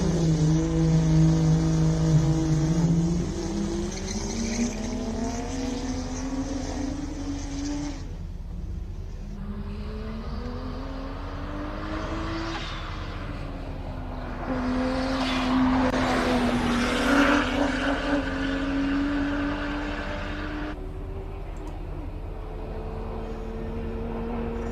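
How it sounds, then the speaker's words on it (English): A twin-turbo BMW 335 race car accelerates hard up the hill at the Simola Hillclimb, its engine climbing through several gears with rising and falling pitch, heard from the roadside and fading slightly into the distance. "It accelerates quite well coming up that hill."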